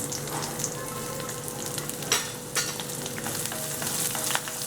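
Onion frying in hot oil with ginger and cashews for semiya kichadi, a steady close-up sizzle with crackles, a couple of sharper spits and faint stirring scrapes, with no voices.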